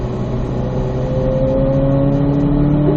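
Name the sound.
car accelerating out of a corner on track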